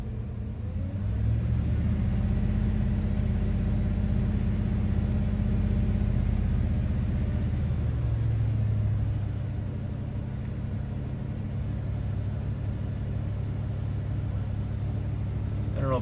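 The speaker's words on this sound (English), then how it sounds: "I'm going to start playing with the throttle here just a little bit" Workhorse 8.1 chassis engine idling with a steady low rumble, then the throttle is worked so the pitch rises and swells for several seconds before settling back to a lower, even drone.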